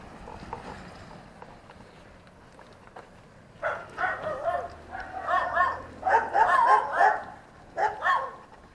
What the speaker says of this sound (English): I caught that right when they first barked